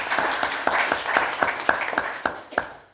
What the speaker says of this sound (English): a big round of applause for their help